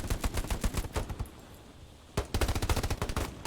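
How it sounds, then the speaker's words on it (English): Rapid automatic gunfire in the WWII shooter Hell Let Loose, bursts aimed at sandbanks: two long loud strings of shots separated by a quieter gap of about a second, with no talking. "It looks like I'm just shooting sandbanks."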